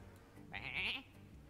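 A sheep in the Hearthstone card game gives a single short bleat, about half a second long, fairly faint and heard alone with no talk.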